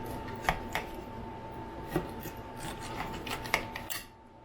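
A serrated steak knife saws through a cooked tomahawk steak along the bone, giving soft rasping strokes with a few sharp clicks against the board, close and quiet.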